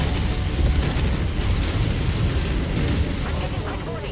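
Rumbling, roaring blasts of multiple nuclear explosions in the mech combat game MechWarrior 5, a dense continuous low boom that stays loud and steady throughout with no clear separate hits.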